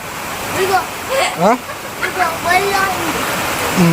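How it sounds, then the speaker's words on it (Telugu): Torrential storm rain pours down in a loud, steady rush while voices talk over it, at a house. "కుండపోత వర్షం వస్తుంది"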